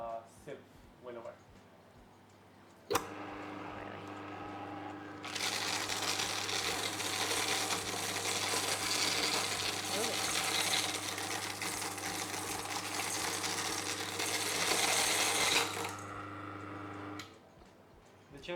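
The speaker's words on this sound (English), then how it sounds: "today I'm going to show you how to use a champion juicer and a sieve winnower" A Champion juicer grinds cacao beans into consistent pieces, a steady loud mechanical whirr with a rattling texture that starts after a sharp click, runs for about ten seconds, then stops.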